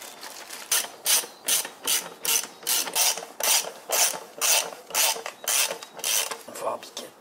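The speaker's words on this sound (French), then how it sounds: "Je vais mettre 2-3 vis juste pour tenir" Screws are driven in to hold a transfer case part in place, heard as a close run of regular rasping, ratcheting strokes, about two per second, with brief pauses between them.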